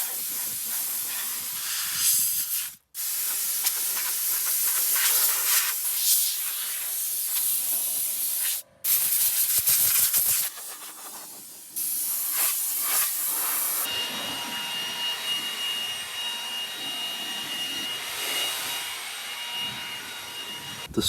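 A vacuum cleaner runs steadily inside a Porsche 914 being cleaned, a loud continuous hissing whoosh that cuts out briefly twice, with shifting tone as the nozzle moves around the seats and floor.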